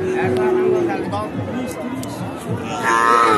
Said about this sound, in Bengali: চমৎকার দুটি গরু, দুটি দেশি গরু।